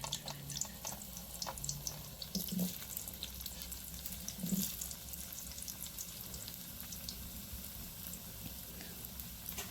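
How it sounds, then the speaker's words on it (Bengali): Small-cut potato pieces fry in hot oil in a kadai, giving a soft, steady sizzle with a few brief clinks and stirring knocks scattered through it. No one speaks. "কড়ার তেলটা গরম হয়ে গিয়েছে। এবারে দিয়ে দিচ্ছি টুকরো রাখা আলুগুলো।"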